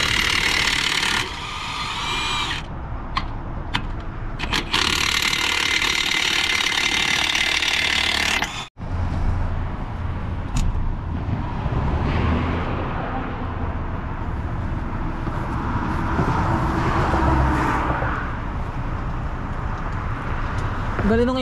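Cordless impact wrench hammering away at a roadside truck repair, loud rattling bursts in quick succession that stop abruptly, followed by steady traffic and engine rumble with people talking.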